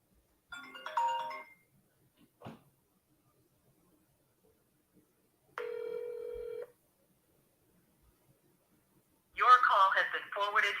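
Phone tones on an outgoing cold call sound in short separate bursts with long silences between them, and a person speaks near the end.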